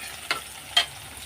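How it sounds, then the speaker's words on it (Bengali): Chicken being sautéed dry in a pan for a Bengali chicken kosha, a soft frying hiss broken by two brief scraping stirs. "এদিকে এটা মাংসটা কষানো হচ্ছে"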